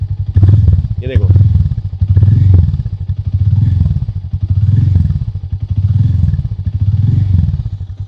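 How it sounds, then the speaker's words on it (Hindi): The single-cylinder engine of a Hero Mavrick 440 motorcycle idles and blips with a deep, thumping low beat, rising and falling in regular revs, close up with someone talking over it. "ये साउंड निकाला है इन्होंने, सोचो डीप साउंड है, ये सिंगल सिलेंडर यूनिट है।"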